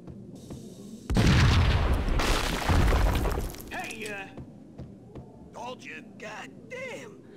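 A heavy, explosion-like boom with crashing and shattering debris from the game Max Payne lasts a couple of seconds, then dies down into quieter clatter while voices speak.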